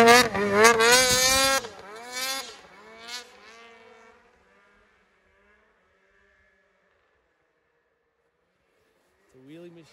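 A Polaris 600RS snowmobile revs hard during a wheelie ride, a loud close engine whine sweeping up in pitch, then fading as the sled pulls away, with a brief return of engine sound at the end.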